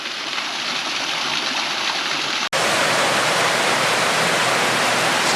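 A small waterfall beside the Petit Bot tea rooms on Guernsey pours steadily, a dense, continuous rushing and splashing that stays loud and close with no voices, broken only by one momentary cut partway through.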